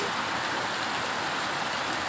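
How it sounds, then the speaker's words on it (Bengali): Rain falls at night in a dense, even hiss of drops, steady and unbroken throughout, with no voices. "বৃষ্টি হয়ে পড়তেছে যখন শব্দে বুঝলাম"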